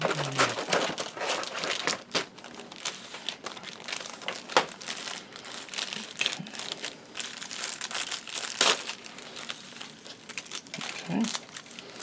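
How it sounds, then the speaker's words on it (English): Plastic bags of parts from a Tamiya 1/72 A6M2b Zero model kit being cut open and handled, with continuous close crinkling and rustling and occasional sharper crackles. "let's cut open the bags"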